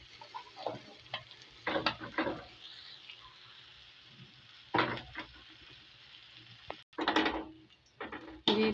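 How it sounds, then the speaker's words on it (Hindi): Okra being fried and stirred in ghee in a pan, with bursts of scraping and sizzling at intervals, close and moderately loud, separated by quieter pauses. "भिंडियाँ जो फ्राई करने का यही मकसद है कि वो चिपके ना एक दूसरे"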